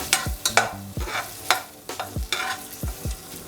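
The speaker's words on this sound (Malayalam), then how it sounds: "വെളുത്തുള്ളി ഇഞ്ചിയാണ് ഞാൻ ഇനി ഇടുന്നത്" Crushed garlic and a small piece of crushed ginger fry in a pan for vegetable pulao, with a steady sizzle broken by repeated sharp scrapes and clanks of a spoon stirring, close and fairly loud, no talk.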